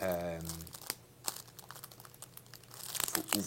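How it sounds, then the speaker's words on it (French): Crinkly plastic is torn open and rustled, the bag holding a new blue Fujifilm F900EXR camera, with close crackles and a sharp rip; a voice speaks briefly at the start. "pour ouvrir le sac, des fois, il faut le déchirer"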